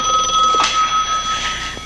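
A telephone rings indoors at night, a steady electronic ring with repeated pulses, fairly loud and close, with no voices over it.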